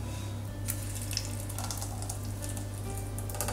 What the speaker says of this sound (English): So we're just going to add our blended sauce to our pot.